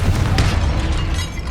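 Confringo blasting spell explosion in Hogwarts Legacy, a loud, deep, rumbling boom that fills the whole moment with heavy low-end energy and a brief crackling burst near the start.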